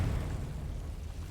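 A Confringo blasting spell bursts in Hogwarts Legacy, a low rumbling blast that fades over about a second with no talking.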